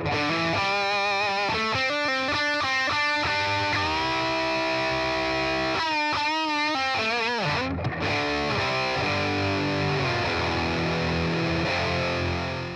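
A Boss Katana 50 MkII guitar amp on distortion variation 1 with the gain all the way up roars through chords and single-note runs, thick and saturated, with a constant hiss underneath.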